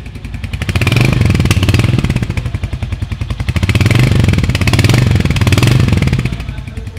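A 2024 Royal Enfield Hunter 350 motorcycle with a short silencer idles close by, its single-cylinder engine thumping in a steady, loud, rapid beat that swells slightly and settles.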